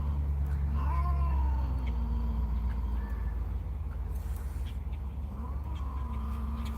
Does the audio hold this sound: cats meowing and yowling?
yes